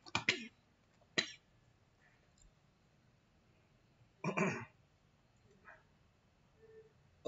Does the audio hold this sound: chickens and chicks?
no